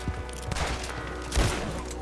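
Gunshot in the Red Dead Redemption 2 video game, a single loud report about midway through, standing out over a busy game soundscape with low rumbling and scattered softer impacts.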